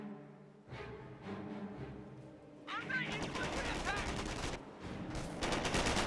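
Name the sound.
MG42 machine gun firing in video game Company of Heroes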